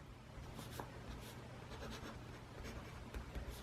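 An Edison Collier fountain pen with a steel medium nib moves across paper in a quiet, close, continuous soft scratching of writing strokes, with no talking.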